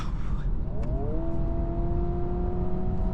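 A 2026 Honda Prelude engine in sport mode, its sound boosted through the cabin speakers, rising steadily in pitch as it revs under constant road noise, close and fairly loud with no talking.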